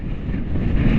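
Strong wind buffets the microphone at a motorcycle campsite, a loud, steady low roar with no other clear sounds.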